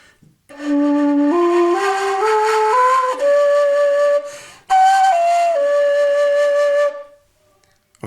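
A breathy wooden rim-blown Anasazi flute plays a slow stepwise rising scale of clear sustained notes, then a few held tones after a short breath break.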